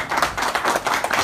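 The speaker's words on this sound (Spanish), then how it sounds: "un aplauso" Audience members clap together at a political club meeting, a brief flurry of quick, close hand claps with no talking.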